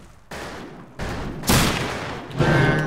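Gunfire in the Western multiplayer shooter Fistful of Frags, with several loud, close shots arriving in separate bursts, each followed by a sustained noisy tail or echo.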